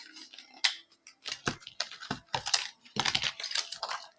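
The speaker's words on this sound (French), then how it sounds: "Je vais couper." Scissors snip through material in a quick series of crisp, close cuts, each with a short metallic click, several strokes over a few seconds in a quiet room.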